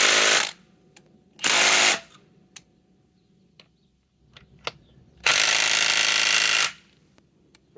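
A Bosch GDS18V-330C cordless impact wrench tries to back out a lag screw, hammering in three loud, close bursts: two short ones, then a longer run after a pause, with small knocks between.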